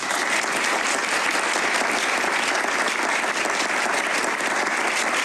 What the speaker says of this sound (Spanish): es Fernando Valladares, y un aplauso para él.